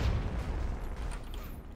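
A car explosion in GTA San Andreas Definitive Edition, a heavy, rumbling boom that opens loud and decays into a low, sustained roar.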